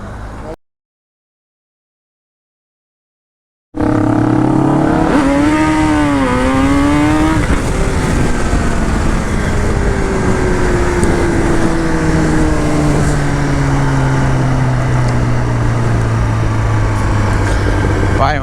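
A motorcycle engine revving loudly close by after a brief silence, with a rising and falling rev followed by a sustained high-speed drone that pitches slowly downward, and a voice speaking over it.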